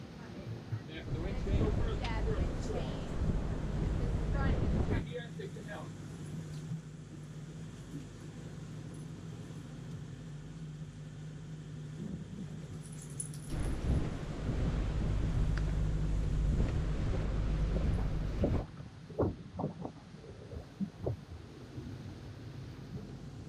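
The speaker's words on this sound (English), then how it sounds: "The wind changed suddenly, with the edge of the front closing in on us." Storm wind buffets a performance sailing catamaran as a weather front closes in, a heavy, low roar that surges in long gusts and drops away, with voices talking over it.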